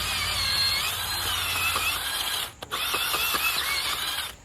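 A powered auger bores post holes for garden beds, a continuous whirring, grinding drive with a short cutout midway before it spins up again, close and loud.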